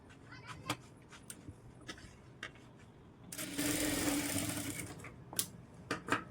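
Sewing machine running a continuous stitch around the edge of a blouse, a steady buzzing burst of about two seconds after scattered soft clicks and handling taps, fairly close and clear.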